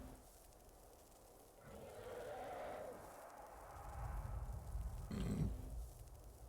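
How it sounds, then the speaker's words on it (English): A character in the video game Skyrim lets out a low, guttural burp partway through, then a second short rough grunt, both fairly quiet over a faint game background. "that was a weird burp"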